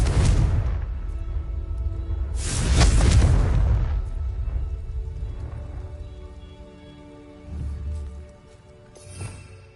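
Confringo blasting spell in Hogwarts Legacy: two loud, deep explosive bursts close together, each rumbling out, followed by quieter thuds and fading debris.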